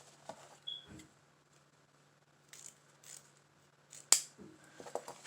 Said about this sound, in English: I'm going to go ahead and cut this off.